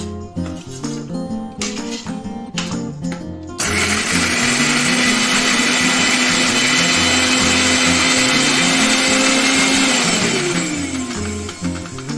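Rhythmic knocking and rattling give way to a loud, sustained mixer grinder whine that runs steadily for several seconds before winding down near the end.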